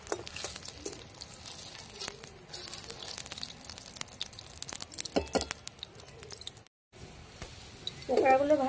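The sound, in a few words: prawn pakoras frying in oil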